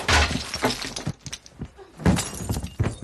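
Glass shatters during a fight scene in the 2011 action film Haywire, with loud crashing bursts at the start and again near the end. Scuffling and impacts fill the space between them, and a faint voice may sit underneath.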